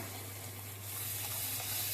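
Blended spinach puree hits a pan of spices, giving a steady hissing sizzle that grows slightly louder, close and alone over a low hum.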